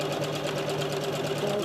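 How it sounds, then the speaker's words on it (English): A sewing machine stitches through Liberty fabric for a rag quilt, a fast, even mechanical whir with regular rapid needle beats, close and steady throughout. "I'm just going to place it underneath my sewing machine."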